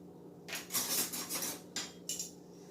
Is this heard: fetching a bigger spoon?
yes